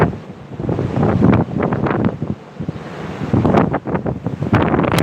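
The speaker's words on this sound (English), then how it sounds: "It's pretty windy out here." Hurricane Ian's strong wind buffets the microphone in continuous gusts while storm-surge ocean waves roar and crash underneath at Wrightsville Beach, North Carolina, loud and close throughout.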